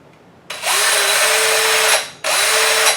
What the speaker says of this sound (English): this is a Craftsman battery on the Black & Decker matrix running a Craftsman attachment